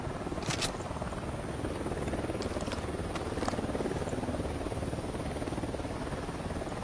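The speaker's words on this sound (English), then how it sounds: "Helicopter inbound." Helicopter in the video game Ghost Recon Wildlands, a steady loud rotor drone that holds throughout, with a few brief sharp clicks near the start.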